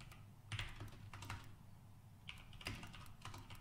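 Fast bursts of typing on a computer keyboard, with irregular clusters of key clicks that fade in and out at a modest level and no speech.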